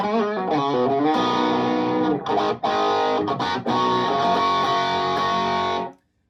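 Electric guitar through a StewMac Ghost Drive overdrive pedal into a clean amp, giving a sweet classic-rock crunch: a few picked notes, then ringing chords that sustain loudly before cutting off abruptly near the end.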